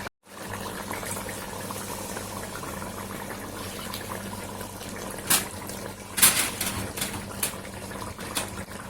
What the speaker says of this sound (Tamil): அதனால நான் 7 கப் தண்ணி தான் ஊற்ற போறேன்